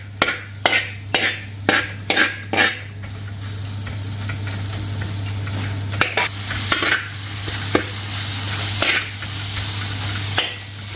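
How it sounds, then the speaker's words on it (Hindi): Tomatoes sizzling on a hot tawa for Lahori dhaba-style chicken, a constant frying hiss with a loud low hum and a run of sharp rhythmic spatula smashes and scrapes, close and without talk. "I will smash the tomatoes."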